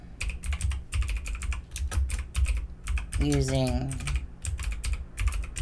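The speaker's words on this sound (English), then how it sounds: "I'm just going to simply type" Typing on a computer keyboard in Canva, a dense stream of close, clacky keystrokes briefly interrupted by a short spoken word partway through.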